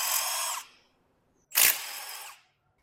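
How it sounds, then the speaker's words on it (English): A power tool with a 1/2 inch socket removes brake caliper bolts on a GMC Acadia, two close, loud whirring bursts separated by a short silence. "we're going to use a 1/2 inch socket to remove"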